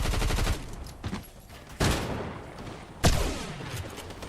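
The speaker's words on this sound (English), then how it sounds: "Whack Owen misses some shots there." Rapid automatic gunfire in the battle royale video game Fortnite, three loud bursts of shots with brief quieter gaps between them, no talking over them.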